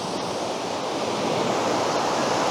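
Sea waves wash steadily along the shore, a continuous loud rushing surf with a gentle swell in intensity, alone with no voices.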